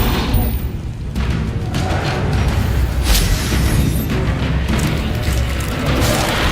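Loud spell-combat effects from the Hogwarts Legacy video game, a dense continuous barrage of booms and crashing impacts with bright bursts, as the Depulso force spell is cast amid ongoing fighting.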